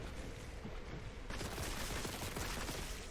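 Gunfire from Warhammer 40,000: Boltgun, a dense, continuous burst of shots that gets louder and harsher partway through, filling the short clip with steady rapid fire.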